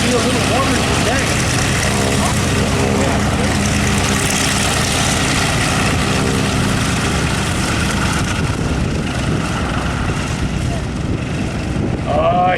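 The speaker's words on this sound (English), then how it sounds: "This is the FG-1D Corsair." A propeller engine runs loud and close at a World War II airshow, a steady rough drone that holds throughout with some voice mixed in.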